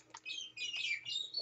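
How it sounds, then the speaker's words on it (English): Bats squeaking in the Minecraft video game, rapid high-pitched chirps and tweets in quick overlapping bursts, fairly faint and with no talk. "They sound like small Tweety birds that don't deserve to die by my fists of fury."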